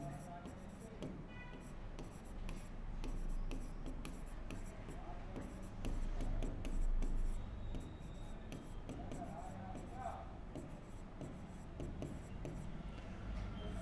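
A pen writes on paper while working a maths statistics problem, giving soft scratchy strokes and taps throughout at close range, with low background sound.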